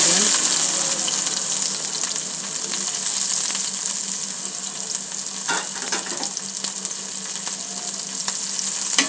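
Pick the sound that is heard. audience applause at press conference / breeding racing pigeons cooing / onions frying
onions frying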